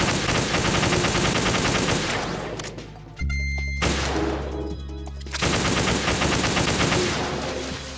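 Sustained automatic gunfire from the Metal Gear Solid 2 video game, loud and rapid with dense bursts, a short pause with a mechanical reload clatter midway, then firing resumes.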